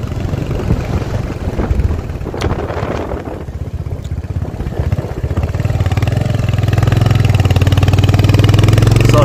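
A motorcycle engine labours up a steep village road, its close, loud drone steady at first, then rising and straining in pitch toward the end, with no talk.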